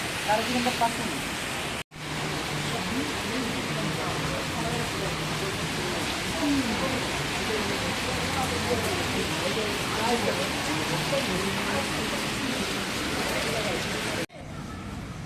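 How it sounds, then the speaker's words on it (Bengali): Rain falls steadily outdoors in hilly surroundings, a dense, even hiss that runs nearly the whole time, broken by short cuts, with faint voices underneath. "আল্লাহর রহমতে বৃষ্টিটা কমছে"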